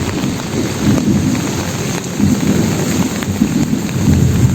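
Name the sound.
thunder and heavy rain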